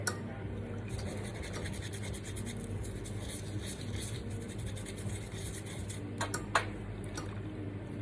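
Brush scrubbing leftover coffee grounds off espresso equipment, a steady close scratching with a few sharper taps near the end over a low background hum.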